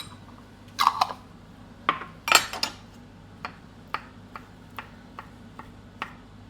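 Capers are chopped roughly with a knife on a board, a few quick clustered chops followed by scattered lighter taps spaced out over several seconds, close and fairly crisp, with no talking.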